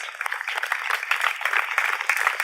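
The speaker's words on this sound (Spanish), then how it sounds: "Dale un aplauso al Señor por su gracia" Church congregation applause, a steady rattle of many hands heard faint and thin as if from a distance, holding at an even level throughout.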